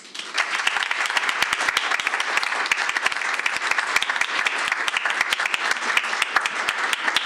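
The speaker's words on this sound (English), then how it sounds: "can we give our school counselors a round of applause?" Sustained applause at a school board meeting from a sizable crowd, steady and loud throughout, with dense overlapping claps and no speech on top.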